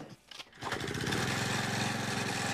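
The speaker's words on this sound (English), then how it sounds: "Oh my gosh, look at that lawnmower." A lawn mower engine in a 1991 movie starts up after a brief, quiet lead-in and settles into a loud, steady, buzzing drone close by.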